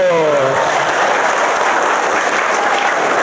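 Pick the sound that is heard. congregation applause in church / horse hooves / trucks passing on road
congregation applause in church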